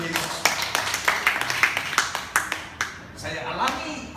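Church congregation clapping hands in a steady, fairly quick rhythm of sharp claps, close and clear, thinning out toward the end as a voice speaks over it.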